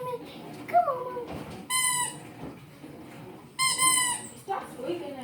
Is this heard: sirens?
no